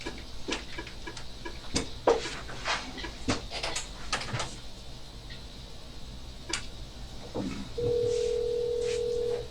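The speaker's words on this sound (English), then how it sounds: "now just dial the number." A telephone dial tone heard as a steady hum near the end, after scattered ticking and clicking sounds, recorded during a police interrogation in Macon, Georgia.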